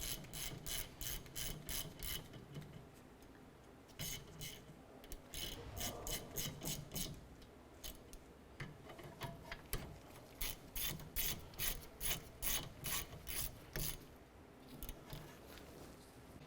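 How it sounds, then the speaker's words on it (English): Ratchet clicking steadily in repeated bursts while snugging rear brake caliper bolts on a 2008-2012 Honda Accord, close and clear with short pauses between strokes, no talking. "Just going to go ahead and snug these down."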